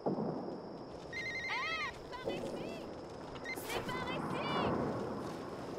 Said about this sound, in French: Le téléphone de Théo.